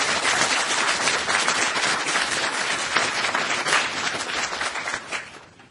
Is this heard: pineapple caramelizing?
no